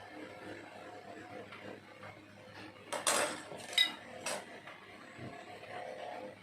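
Metal spoons scrape and clink against a container as three spoonfuls of baking soda are scooped for a school chemistry reaction-rate experiment, giving a few faint, separate clinks over quiet room noise.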